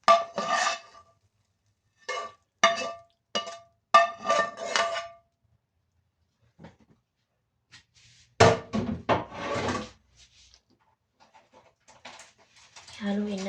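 Ground beef and fresh tomatoes being stirred in a pan, with a utensil scraping and clattering in short bursts, separated by quiet gaps, with speech over parts of it.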